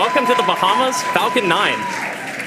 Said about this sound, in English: you can hear the cheering behind me